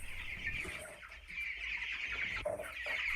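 Broiler chickens on a South African farm cluck and chatter steadily and close by, a dense continuous flock sound with a few sharper calls standing out.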